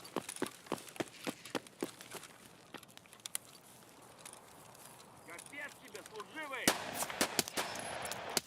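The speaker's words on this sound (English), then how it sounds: "I love shooting scavs with M61." M61 rifle fire in the video game Escape From Tarkov: a string of sharp, close single shots early on, a quieter stretch with footsteps and rattling, then a louder burst of rapid shots near the end.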